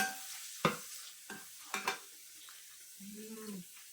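Onion sautés in a pan for adobong kangkong, with a faint sizzle broken by several sharp stirring knocks and scrapes of a utensil against the pan, close by.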